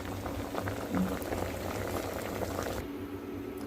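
Spinach boiling in water in a pot, a steady close bubbling and rolling burble, no voices.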